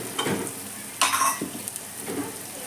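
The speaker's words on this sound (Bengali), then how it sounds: "ডালটা আমি মশলার সঙ্গে একবার মিশিয়ে নিলাম" Dal being stirred together with spices in a frying pan for sambar dal, giving soft scraping strokes and a light sizzle, with a brighter scrape near the middle and no talking.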